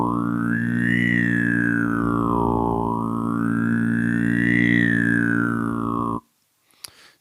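A single sustained vocal squeal sung with the kume technique, rich in bright overtones, gliding up and down in pitch in a wavy arc for about six seconds before stopping abruptly.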